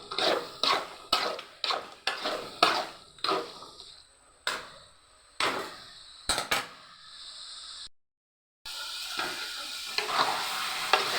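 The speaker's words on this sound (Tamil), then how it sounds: "நல்லா வதக்கணும் ஃப்ரெண்ட்ஸ். அடி பிடிக்காமல் வதக்கணும்." Chicken and drumstick curry sautéed in a pan, a series of rhythmic spatula scrapes and stirs over a crackling sizzle, broken by a brief silence before a loud steady fry takes over.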